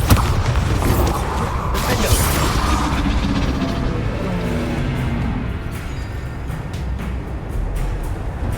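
A heavy, booming Bombarda explosion spell in Hogwarts Legacy hits loudly at the start, then rumbles on as a dense, noisy roar that slowly fades over several seconds.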